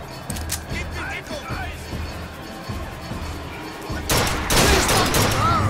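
Gunfire in the game BioShock Infinite crackles through a steady noisy bed, with a dense, louder burst of shots near the end.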